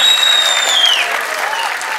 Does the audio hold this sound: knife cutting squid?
no